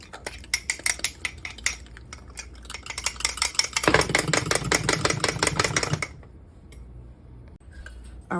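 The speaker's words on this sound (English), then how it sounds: "you're going to whisk this and blend this together well" Egg yolks, a whole egg and sugar whisked together in a bowl, a quick metallic scraping and ticking rhythm that grows louder and busier midway, then stops.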